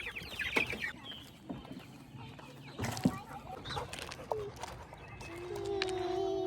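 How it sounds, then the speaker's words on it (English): Chickens cluck and squawk close by while being moved to a new coop, irregular calls over rustling and handling noise, with a sustained tonal squawk near the end. "we're gonna go ahead and move the chickies"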